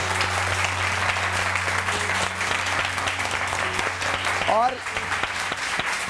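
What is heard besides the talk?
studio audience applause on TV show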